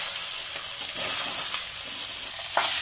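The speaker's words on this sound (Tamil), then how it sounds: "இப்போ இந்த கிழங்கு ஆட் பண்ணிக்கலாம்." Pieces of yam (elephant foot yam) sizzle and fry in hot oil in a pan, a steady broadband crackle with a few scraping stirs of a spatula, close and fairly loud, with no voices.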